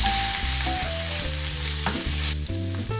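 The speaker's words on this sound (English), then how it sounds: "Add the 1 tablespoon red wine and stir until liquid evaporates" Onions frying in a pan with a splash of red wine, sizzling steadily while being stirred, with melodic background music playing over the frying the whole time.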